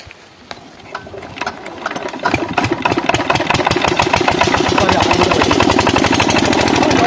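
A freshly repaired engine cranks with scattered knocks, then catches and settles into a steady, loud, rapidly chugging run that holds for several seconds.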